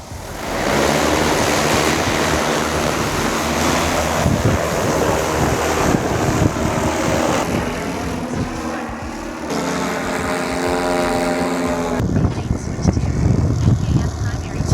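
An ABZ L30 V2 agricultural spray drone lifts off and flies, its rotors a loud, steady roar with a shifting pitch. Heavy wind buffets the microphone outdoors throughout.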